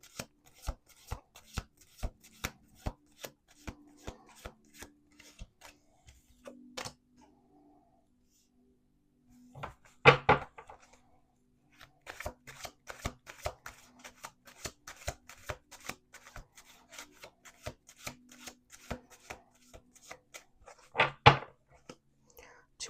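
Tarot cards are shuffled over and over close up, a rapid riffling patter with a few louder bursts, brief pauses and soft whispered speech in between.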